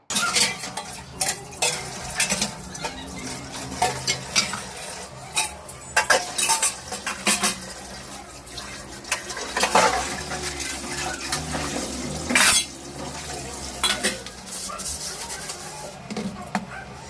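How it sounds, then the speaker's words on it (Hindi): Pots and steel utensils are scrubbed and washed by hand, with frequent close clinks, scrapes and clatters of metal against metal coming in uneven bursts over a soft background hum. "हमने सोचा कि यहाँ पर बर्तन मांज लेते हैं"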